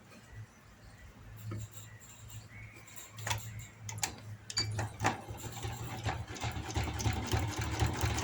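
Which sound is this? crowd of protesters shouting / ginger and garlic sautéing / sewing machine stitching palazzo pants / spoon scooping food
sewing machine stitching palazzo pants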